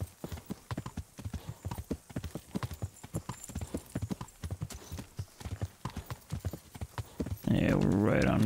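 A horse trots along a track in the video game Kingdom Come Deliverance, with steady, fairly loud clip-clopping hooves and a brief burst of other noise at the end.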